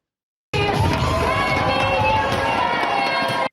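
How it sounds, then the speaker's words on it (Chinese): Cruise ship passengers at sea cheer loudly through a New Year's Eve countdown to greet the first sunrise, a dense, continuous roar of crowd shouting and whooping that cuts off abruptly at the end. "大声的倒算欢呼声真大声"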